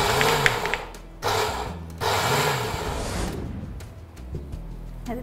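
A mixer grinder whirs and grinds peas and poha together for vada, running in several loud bursts with brief pauses between them.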